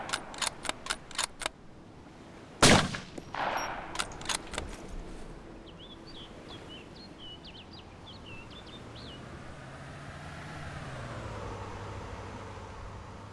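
Gunfire in the DayZ video game with the Overwatch mod: a quick burst of sharp cracks, then one loud nearby shot, followed by a fading rumble and a low vehicle-like drone.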